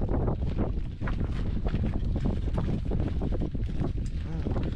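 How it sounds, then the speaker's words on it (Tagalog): Strong wind buffets the microphone on a small fishing boat out on the water, a loud continuous rumble with gusty surges, while a voice speaks beneath it. "Para namang may electric fan sa likod kong nakatutok. Yung hangin ho yan."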